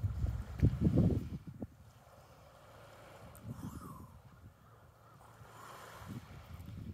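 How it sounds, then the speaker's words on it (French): Sea waves wash and rumble softly with wind noise, a stronger surge at the start easing into a low, steady ocean hiss. "C'est le son de la mer."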